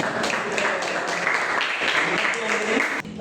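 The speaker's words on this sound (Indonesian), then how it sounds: "Tepuk tangan buat kelompok." A classroom group receives applause from fellow students, dense clapping filling the room for about three seconds, with voices mixed in underneath.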